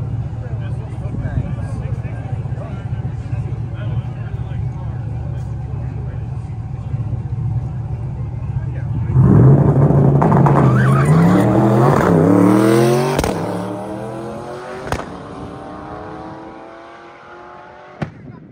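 A modified C8 Corvette idles with a low drone, then launches on a drag racing pass with a loud rising engine roar through the gears that fades as it pulls away.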